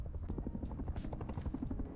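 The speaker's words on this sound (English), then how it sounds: "Oh dear, chopper's mad." A helicopter in the video game Rust thumps close by with rapid, steady rotor beats over a low engine drone, loud throughout.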